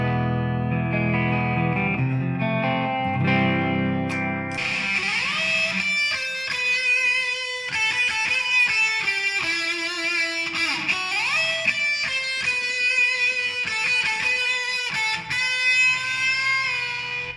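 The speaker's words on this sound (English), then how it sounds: "This one works really good with the Boss Distortion pedal whenever you want to throw in those like lead tones" Electric guitar played through a Boss Distortion pedal for lead tones, loud and continuous, opening with chunky low chords and then moving into sustained, saturated single-note lead lines with bends, no talking.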